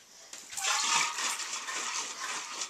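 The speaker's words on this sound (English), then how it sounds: "And then just shake that up and then pour it into my glass jug." Liquid for hibiscus (sorrel flower) wine pours into a glass jug, a bright splashing stream that starts after a brief knock and runs steadily up close.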